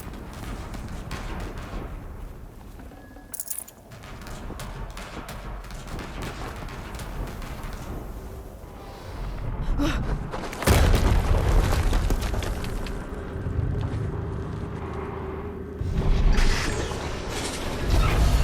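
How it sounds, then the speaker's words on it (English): Explosions in the video game Horizon Zero Dawn Remastered, with creaking mechanical rumbles building to heavy booming blasts around the middle and again near the end, loud and without voices. "Another explosion."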